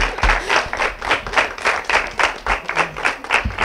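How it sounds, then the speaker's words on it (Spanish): A small school audience claps in a steady, fairly close rhythm, the individual claps pulsing evenly for a few seconds with no talk over them. "otro aplauso por vosotros"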